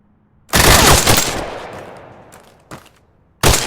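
A burst of gunfire in the VR shooter Tactical Assault VR: a loud, sustained volley for about a second that fades into a long reverberant tail, then a short lone shot and another loud burst at the end.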